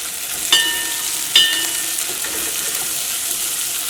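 Sliced onions frying and stirred in a pan for restaurant-style chilli beef: a steady bright sizzle throughout, with two sharp scraping stirs of the spoon near the start and softer movements after.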